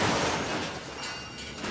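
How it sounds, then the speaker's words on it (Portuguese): A car rolls over and crashes in a loud, close burst of broadband impact noise and crunching debris that stays dense throughout, with brief shattering near the end and no voices. "Chefe está capotando."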